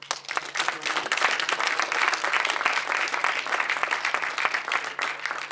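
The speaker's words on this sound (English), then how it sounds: "I think everyone owns a big applause." Warm, sustained applause from an event audience thanking the host of a virtual reality storytelling session, many hands clapping evenly throughout with a faint steady hum underneath.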